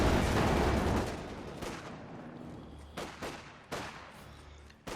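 Battle sounds from Company of Heroes 2: a heavy burst of machine-gun and artillery fire at first, then scattered sharp gunshots and distant bursts, loud up close and fading between shots.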